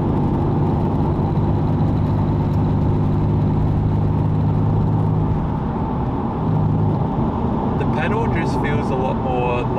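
A V35 Skyline (Infiniti G35) fitted with a throttle controller cruises along with a steady engine drone and road rumble. A voice talks over it throughout.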